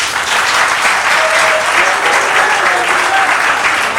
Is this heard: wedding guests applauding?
yes